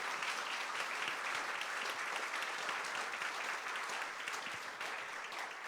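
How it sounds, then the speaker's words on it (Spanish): A congregation at a Sunday morning church service applauds, a sustained, even wash of many hands clapping together, somewhat distant and uniform without pause. "Denle un aplauso al Señor en esta mañana."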